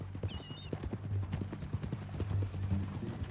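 Horse hooves clip-clopping in Red Dead Redemption 2 on a ranch, a steady close run of distinct knocking hoofbeats, with a brief whinny near the start and faint background sound.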